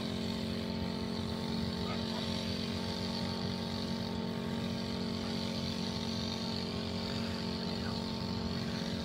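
A motorized herbicide sprayer engine running steadily in a rice field, a continuous droning hum with a constant, unwavering pitch, moderately loud and close, with no talk over it.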